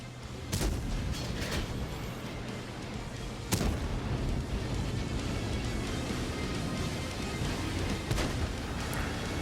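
Heavy booming tank cannon shots in World of Tanks, a few spaced blasts rising out of a dense, constant rumble of battle noise.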